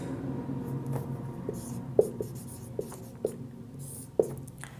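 A pen scratches across paper in short strokes with a few sharper taps, writing out a class 10 maths solution on real numbers, close and fairly quiet with no talking over it.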